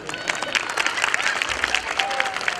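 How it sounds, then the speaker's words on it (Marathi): An audience at a school annual function claps after a student song performance, dense continuous applause from a crowd with a voice audible over it. "टाळ्यांचा आवाज थोडा कमी पडतोय."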